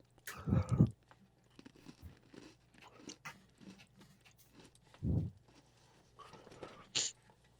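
Someone bites and chews a crunchy holiday snack during a taste test, with several loud close crunches at the start and again around five seconds, softer chewing noises in between, and no speech.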